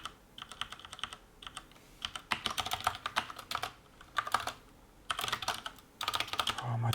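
Bursts of rapid clicking on a computer keyboard, close and fairly loud, with short pauses between flurries of keystrokes and no talking.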